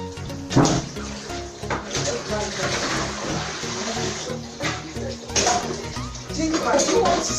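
Beans being washed in water in a kitchen while preparing moi moi, with sloshing, splashing and clattering of the bowl throughout, loud and close, and a voice talking over it.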